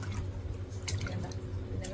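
A container of fish is lowered into water in a home kitchen, giving a faint, soft run of watery drips and small splashes close by.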